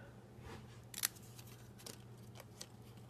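Scissors snip through paper close by while trimming out a word from a label, a few quiet cuts with one sharper snip, over a faint steady background hum.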